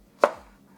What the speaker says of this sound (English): I'm going to coarsely chop everything because we are going to stick it in the blender here